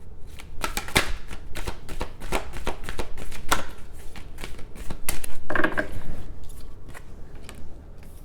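Tarot cards shuffled by hand in a steady, close, fairly loud run of riffling, slapping card flutters.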